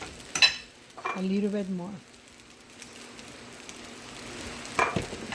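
Shrimp fried rice is stirred in a sizzling pan, giving a soft, steady frying hiss with brief scraping clatters at the start and end, while a person speaks briefly over it.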